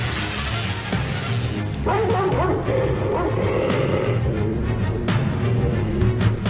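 A dog barks and yips in an old serial-style adventure soundtrack, a few sharp barks rising out of a loud, busy mix of rumbling action noise and crashes.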